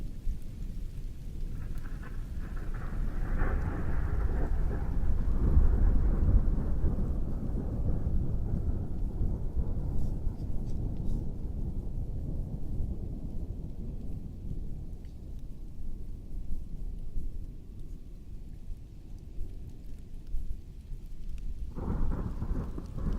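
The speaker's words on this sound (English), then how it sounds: "Why is there always thunder and rain when I join?" Thunderstorm with rain: a long, deep rolling rumble of thunder swells and slowly fades over steady rainfall, with a fresh low rumble building near the end, no voices.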